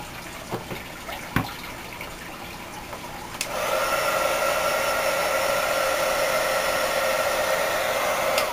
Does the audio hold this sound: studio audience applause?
no